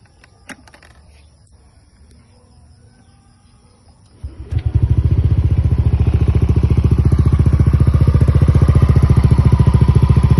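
A Yamaha Aerox or NMAX scooter with a TSMP S2.5 aftermarket exhaust cold starts after a few seconds of quiet clatter, settling into a loud, steady, throaty idle with a rapid pulsing exhaust note.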